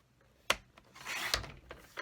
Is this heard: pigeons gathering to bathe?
no